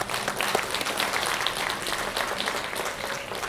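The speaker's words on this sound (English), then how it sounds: "everyone to give Professor Panch Ramalingam a round of applause." Sustained applause from a conference audience, a dense steady wash of many hands clapping at even loudness throughout.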